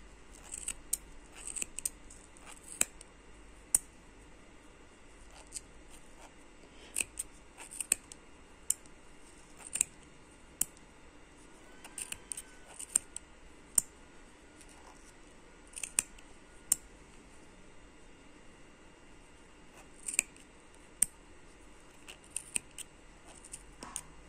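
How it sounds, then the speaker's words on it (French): Worn, dull scissors snip yarn repeatedly at close range, sharp crisp cuts in irregular bursts with short pauses, no talking. "J'ai mon ciseau qui commence à mourir"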